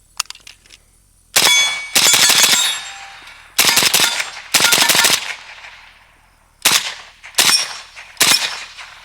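A Century Arms Romanian AES10B2 RPK rifle fires loud, close bursts and single shots outdoors, with sharp reports in several distinct groups separated by short pauses.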